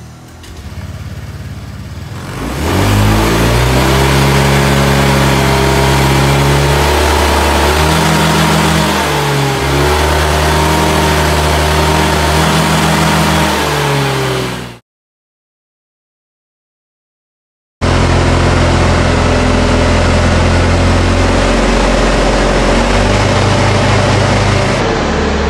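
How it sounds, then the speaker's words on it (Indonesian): A fuel-injected motorcycle engine with a fault that makes it lose speed at full throttle is revved hard and held loud and close, with a rough, wavering pitch, then cut off by a short silence before the sustained revving comes back. "penyakit motor saat digas full itu malah turun speednya."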